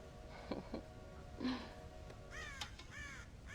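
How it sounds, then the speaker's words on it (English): Several crows caw in a game of Red Dead Redemption on a ranch with a corn silo, with harsh calls rising and falling over a steady background drone and scattered clicks. "God damn crows!"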